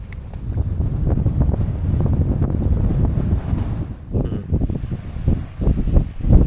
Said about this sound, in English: when it's windy like this